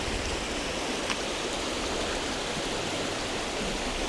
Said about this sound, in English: there's lots of water and it's coming down a gradient, so it's moving very fast